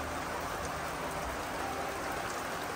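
Steady rain falls in the hills of Himachal, a constant close hiss of drops on surfaces at even volume throughout, with no voices.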